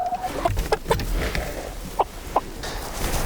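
Barred Rock chickens and a rooster cluck in short bursts, a few sharp calls standing out over a low background murmur of the flock.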